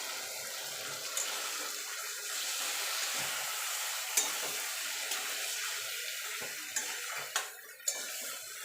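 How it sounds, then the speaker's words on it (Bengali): Water pours steadily into a cooking pot of drumsticks and potatoes, a continuous broad splashing wash with a few small clinks and knocks near the end, close up and alone. "এবার দিয়ে দেবো জল, ডাঁটাটা আলুটা সিদ্ধ হওয়ার জন্য।"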